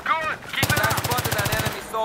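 A quick automatic burst of evenly spaced shots in Battlefield 3, loud and close, with voices talking just before and after it.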